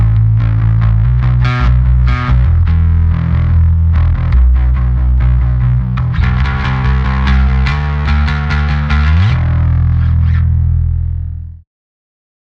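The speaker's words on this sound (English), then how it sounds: "an Ampeg preamp that was using a little bit of a drive that sounded like this" Bass guitar run through an Ampeg preamp with a little drive, a gritty, thick line of plucked notes played alone for about eleven seconds before ringing out and stopping.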